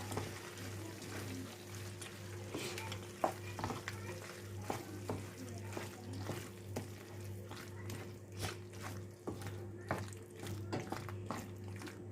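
Spicy vegetarian pasta being stirred in a pan with the heat off, soft scraping and wet squishing strokes repeating at an irregular rhythm over a steady low hum, close and fairly quiet.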